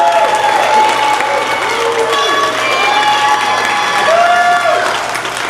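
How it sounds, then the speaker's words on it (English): An audience applauds and cheers for an honoree at a business event. A dense, continuous wash of clapping runs under rising and falling whoops and calls. "Clap it up"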